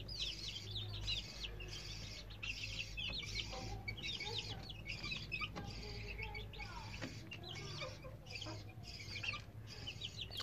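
Three-week-old Indian Gurk chicks with their mother hens cluck and peep in a busy, overlapping chorus, with rapid high chirps close by and a steady low hum underneath throughout.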